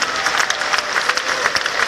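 Congregation applauding during a church convention service, brisk continuous clapping from many hands, fairly close and even in level.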